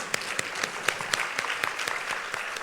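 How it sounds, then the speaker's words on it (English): Audience at a public policy conference giving a round of applause after a panel discussion, a steady burst of many hands clapping at moderate distance, dense and even throughout. "May I request one big round of applause"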